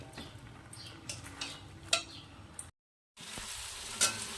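Mixed vegetables for a Bengali chorchori with ginger paste are stirred in a pan, giving quiet scraping strokes and soft spatula clicks over a low sizzle, with a brief silent gap before the stirring resumes.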